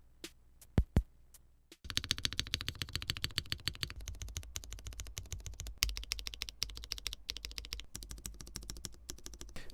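Mechanical keyboard with an aluminum plate and no foam, typed on briskly: a few isolated key clacks, then dense, rapid, crisp clicking close up, with no talk.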